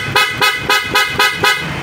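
A PIAA dual-mode horn fitted to a Honda ADV 160 scooter blares in six quick, evenly spaced toots, loud and close, with a bright, buzzy tone.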